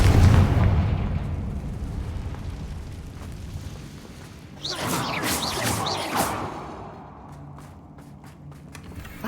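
Confringo blasting spell in the Hogwarts Legacy video game, a loud booming explosion with a fiery whooshing roar that swells midway and then fades into rumbling debris.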